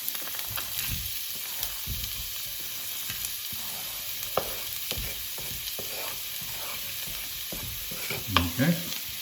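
Onions and carrots for samosa filling fry in a small amount of oil in a pan on a hob over medium to high heat, a steady close sizzle broken by scraping stirs and a few louder clatters near the end.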